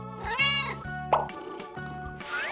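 A cat meows repeatedly during a bath, several drawn-out, wavering cries close by with short pauses between them, and a brief splash-like burst in the middle.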